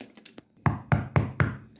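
Four firm, evenly spaced knocks on a door, close and solid, following a few faint lighter taps.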